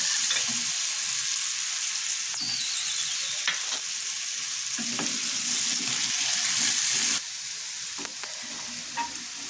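Green chillies and ginger pieces frying in hot oil with fresh green peas, a steady close sizzle with intermittent stirring scrapes throughout, no talk.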